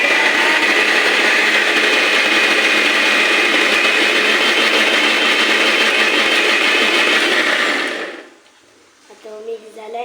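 A kitchen mixer blender whirring loudly and steadily as it blends mango pulp for aamras with cardamom, running for about eight seconds before cutting off, followed by faint clicks and handling sounds.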